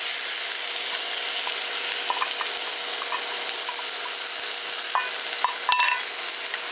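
Cabbage, carrots and bamboo shoots stir-fry in a hot, freshly seasoned wok on a NuWave induction cooktop. A loud, steady sizzle holds throughout, broken by scattered clinks and scrapes of stirring.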